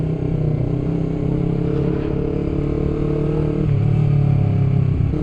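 A Honda CBR250RR sport motorcycle engine revs steadily and loudly up close, holding a dense, buzzing idle-to-midrange drone with a brief surge near the end, no voices.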